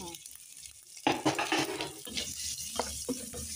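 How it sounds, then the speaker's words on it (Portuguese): Calabresa sausage fries in a pan at home, a soft sizzle with clattering stirring and scraping that starts after a quiet first second and continues in uneven bursts. "fritadinha um pouco na calabresa"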